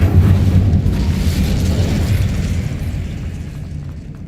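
Incendio fire spell cast in the Hogwarts Legacy video game, a loud, deep, rumbling whoosh of flame that starts at full strength and slowly fades over about four seconds.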